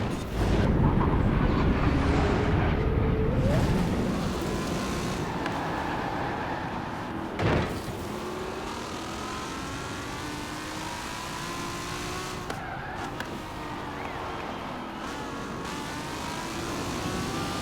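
A car engine in Forza Horizon 4, loud revving at first, then climbing and falling through the rev range with a whistling, humming whine at high revs, plus a brief sharp burst partway through.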